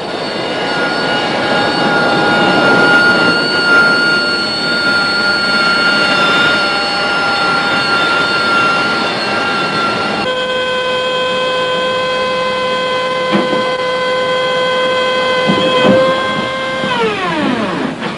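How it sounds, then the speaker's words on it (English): Loud, sustained Harrier jump jet engine whine with piercing high tones that shift pitch midway, then sweep downward near the end as the engine spools down. "The Harrier can take off and land like a helicopter and still fly faster than sound."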